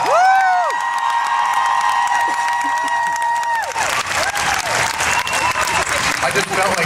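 At a Walker Stalker Germany 2018 cosplay contest, loud sustained audience applause and cheering for contestants, with tonal sounds over it at first and then a denser wash of clapping and shouts.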